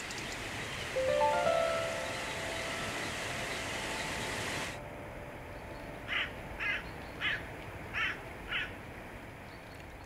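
Crows give a series of about six evenly spaced harsh caws at moderate distance, each a short rasping call, over a steady background hiss of wind and breeze in an open volcanic landscape in Italy.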